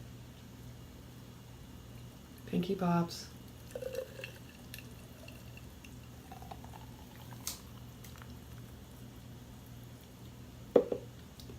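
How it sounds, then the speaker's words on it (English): A thick almond milk date smoothie poured from a blender jar, a short gloopy glugging pour near the mic amid a low steady hum, with someone speaking briefly and a few clinks later. "So we got to go for that dramatic pour."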